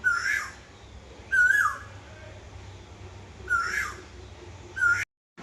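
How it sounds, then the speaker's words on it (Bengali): A cuckoo with a hoarse, strained voice calls four times in a steady rhythm, each call a short, rough, breaking whistle, fairly close and loud against a quiet background. "এক বেচারা কোকিলের ডেকে ডেকে তো গলা ভেঙেই গেছে,"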